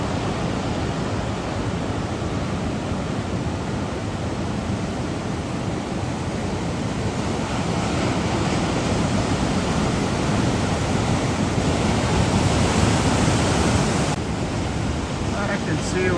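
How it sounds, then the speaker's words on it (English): Rough ocean waves break along the Big Sur coast in a continuous, loud, rushing roar with a windy wash that swells slightly toward the end. "Some rough seas. The seas were angry, my friend."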